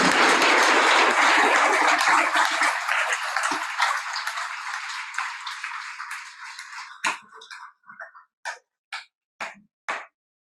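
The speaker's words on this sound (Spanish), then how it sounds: "Un aplauso, por favor." An audience at an honorary doctorate ceremony claps loudly for the honoree. The dense applause thins over several seconds into a handful of separate, isolated claps near the end.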